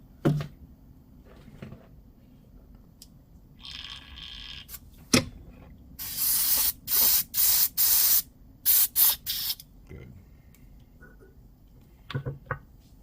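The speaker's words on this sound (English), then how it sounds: "before I put it on my airbrush, let me just make sure there's enough flow in here" An airbrush sprays paint in a flow test while a 1/100 scale Strike Freedom Gundam model kit is being painted: a few faint clicks, then a string of short, loud hissing bursts close to the mic.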